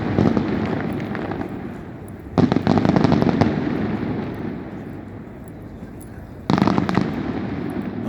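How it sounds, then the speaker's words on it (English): Mardi Gras fireworks on the DC waterfront, heard as a continuous rumbling roar of bursts with two sharp, louder explosions standing out partway through, under faint talk. "Mardi Gras fireworks tonight here."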